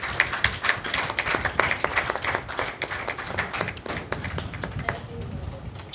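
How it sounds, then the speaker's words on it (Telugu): Hands clap throughout a church Father's Day celebration, a dense, steady patter of audience applause with a few sharper claps standing out, fading slightly toward the end. "అమ్మ చప్పట్లు కొట్టండి"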